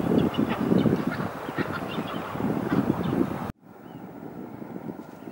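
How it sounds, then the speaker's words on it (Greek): Wild birds near a Patagonian river give loud goose-like honks and quacking calls in a busy irregular chorus with wind, cutting off abruptly to quieter outdoor ambience for the final seconds. "Συναντάω και φανταστικά πουλιά σε αυτή τη διαδρομή."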